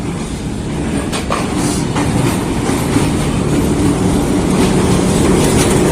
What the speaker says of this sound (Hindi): सर सैयद एक्सप्रेस डायरेक्ट लाया जा रहा है रावलपिंडी रेलवे स्टेशन पे